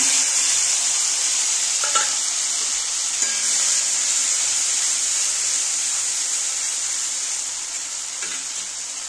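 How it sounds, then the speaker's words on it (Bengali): Steady, loud sizzle of spice paste of nigella seeds, cumin, green chilli, chilli powder and cumin powder frying in hot oil, with a few soft stirring scrapes against the pan, fading slightly toward the end. "তেলটা গরম হয়ে গেছে, এবার আমি মশলাটা কষিয়ে নেব।"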